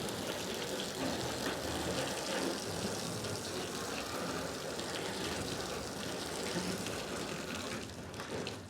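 Water from a hose runs off a corrugated roofing sheet on a kitchen extension, a steady, fairly loud rushing wash that lasts the whole stretch with no talk over it.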